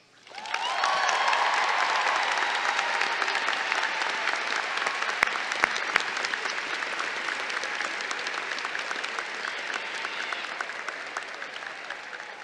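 A large commencement audience at a College of Liberal Arts & Sciences graduation ceremony bursts into dense, sustained applause that rises quickly and holds steady for several seconds, slowly thinning toward the end, with no talking over it.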